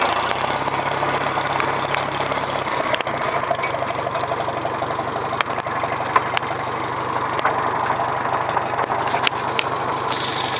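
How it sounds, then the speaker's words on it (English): A 1950 Farmall M tractor engine idles nearby, a steady loud rhythmic chugging with a low knock that runs evenly through the whole stretch, with occasional light clicks. "It's a pretty good old tractor."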